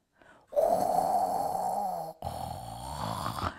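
A voice imitates a loud, deep snore: two long rasping inhaled snorts, the first sustained and strong, the second following after a brief break, close and alone.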